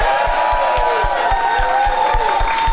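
Loud, sustained applause and cheering from a crowd at a live Halloween hall-of-fame event, with a regular low thumping running underneath the noise.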